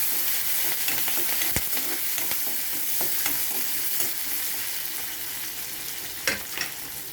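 Onion, dried chilli and curry leaves sautéing in a pan with chana dal for a snake gourd poriyal, a steady close sizzle broken by a few sharp scraping stirs of the spoon, with no talking.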